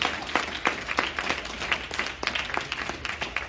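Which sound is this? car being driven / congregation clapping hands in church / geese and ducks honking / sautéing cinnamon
congregation clapping hands in church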